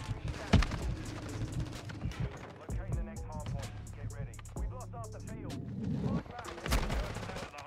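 Automated sentry gun firing in Call of Duty Modern Warfare II, with bursts of shots amid other game sounds and a couple of louder blasts near the start and end.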